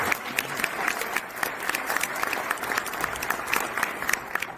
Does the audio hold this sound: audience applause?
yes